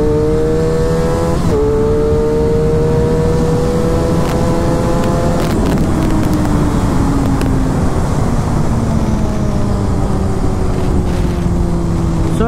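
A Suzuki GSX-R 1000 superbike in C riding mode accelerates hard through third gear, its engine note climbing in steady sweeps that break at gear changes, loud and sustained throughout.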